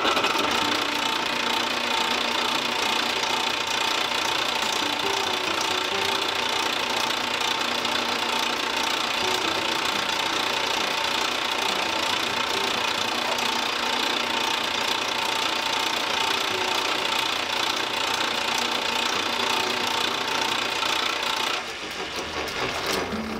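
A metal lathe runs steadily while a part is filed, giving a continuous loud mechanical whir and rattle that holds evenly for over twenty seconds before easing off near the end.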